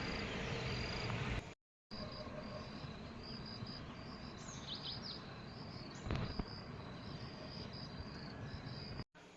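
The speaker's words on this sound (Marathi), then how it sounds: "बॅकग्राऊंडला पक्ष्यांचे आवाज बघा मित्रांनो किती गोड आहेत" Birds chirp and twitter in short, high calls over a constant buzzing drone of insects outdoors, with a couple of brief silent gaps.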